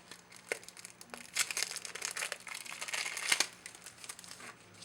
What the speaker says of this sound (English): Go ahead and take them out of this wrapper.